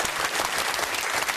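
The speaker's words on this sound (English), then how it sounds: "I think a huge round of applause" Studio audience applause on a televised debate show, a short steady burst of dense clapping from a crowd.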